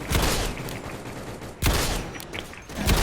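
Magnum gunshots in the Roblox game Anomalous Activities fire in slow succession, three heavy booming blasts each followed by a rolling tail, loud and close, with no talk.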